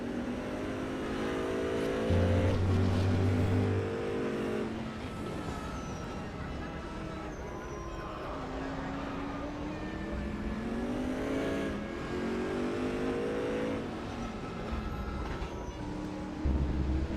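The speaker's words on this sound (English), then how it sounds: "hear how different the two V8s are in those cars" Chevy V8 GT race cars lapping the Brands Hatch circuit in a historic GT race. Engines rise and fall through gear changes as cars pass one after another, with a commentator talking over the sustained engine roar.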